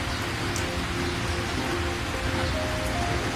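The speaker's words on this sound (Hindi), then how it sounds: "इतनी ठंड में यह जोरदार बारिश भी होने लगी।" Heavy rain pours steadily in cold weather, a dense, continuous wash of drops drumming on surfaces with no pauses and no voices.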